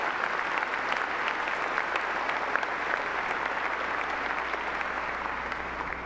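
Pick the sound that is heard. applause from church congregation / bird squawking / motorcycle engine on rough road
applause from church congregation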